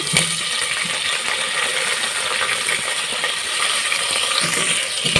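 Sliced onions, green chilies and greens sizzle with whole spices in hot oil for a mutton biryani. The dense, steady frying hiss carries faint clinks and stirring scrapes throughout.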